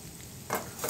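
Ingredients for palak paneer sautéing in a pan, a soft steady sizzle with a brief louder burst of stirring or frying noise midway and again near the end, with no talking.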